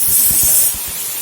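Ginger-onion spice paste sizzling in hot oil with fried tomatoes for a potato-tomato fish curry, a steady close hiss with a few soft pops early on, easing slightly after the first half.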